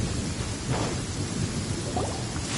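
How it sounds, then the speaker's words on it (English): Thunderstorm with steady rain hissing on surfaces and a low, continuous rumble of thunder beneath it, moderately loud and even throughout. "Thunder and lightning can be quite frightening"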